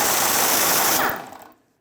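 A tool spins a 15mm socket to remove the transmission mount nut on a Chevrolet Express 3500 van, a loud buzzing whir that runs about a second before winding down and stopping.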